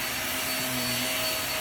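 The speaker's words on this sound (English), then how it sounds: "I love this vacuum. It has so much power." Household vacuum cleaner running at full power, a loud steady whirring drone with a high motor whine, continuous and close for the whole stretch.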